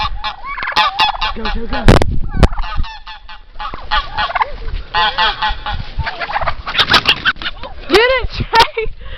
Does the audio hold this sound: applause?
no